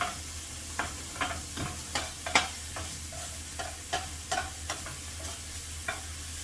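A spoon stirs food in a small pan with tomato sauce, giving regular scraping strokes about twice a second over a soft, steady sizzle, close and fairly quiet.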